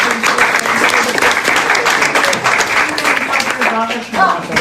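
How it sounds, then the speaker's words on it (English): Audience applause at a community library food meeting, steady dense clapping from a crowd that stays loud throughout, with some voices mixed in. "Let's give her a round of applause."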